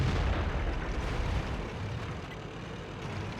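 Heavy tank gun fire from the Chinese WZ132 light tank in World of Tanks, a loud booming blast with a rumbling low-end decay that fills the whole moment, no voices.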